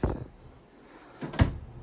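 Full-extension plywood drawers on ball-bearing guides in a 2022 Forest River Salem Hemisphere 22RBHL camper slide and shut, giving a soft thump at the start and a sharper knock near the end, both fairly quiet.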